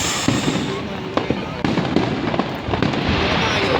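Fireworks burst in a dense, continuous barrage of loud crackles and booms over a large outdoor crowd, with voices chattering beneath the explosions.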